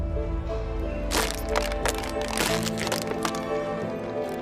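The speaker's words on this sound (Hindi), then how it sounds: "इस ढक्कन को" Plastic bottle cap pressed down into a water bottle, a burst of crackling plastic cracks and crunches near the microphone, fairly loud, with faint background talk.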